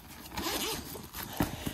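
A zipper opening a compartment on a lunch backpack, one continuous close zip lasting under two seconds, clear and alone.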